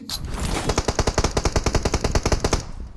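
Automatic rifle fire in the mobile battle-royale game PUBG Mobile: a rapid, steady burst of about twenty loud, evenly spaced shots running nearly the whole time, with no talking.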